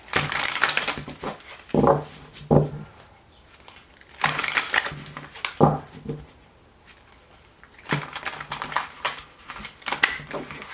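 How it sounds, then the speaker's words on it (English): Tarot cards being shuffled by hand in three bursts of riffling and crinkling, each with a few sharp snaps and taps, close and fairly loud with quieter pauses between. "Get a couple more shuffles here."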